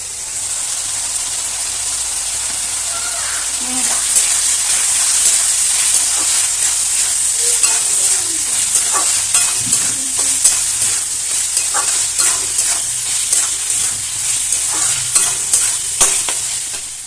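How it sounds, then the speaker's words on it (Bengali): Chicken mince frying in oil for a chickpea ghugni, a steady loud sizzle and hiss running throughout with repeated scraping stir strokes from about four seconds on, no talking. "মাংসগুলো একটু তেলের মধ্যে ভাজা ভাজা হচ্ছে"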